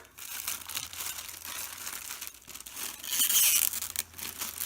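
A Hobonichi Imagine printed cover pulled out of tight plastic wrapping, with close crinkling and rustling that swells into a loud, bright crackle of plastic near the end.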